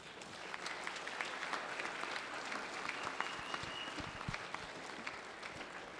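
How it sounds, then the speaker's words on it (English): Legislators and guests in the Hawaii House chamber give a round of applause, a full, even burst of many hands clapping that carries steadily for several seconds without speech. "if we can give them one more round of applause."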